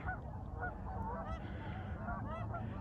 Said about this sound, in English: I think they're geese.